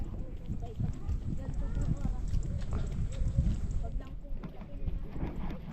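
Horse hooves clip-clop at a steady gait on a rural road where a loose horse is being led, while several people talk over the steady rhythm throughout.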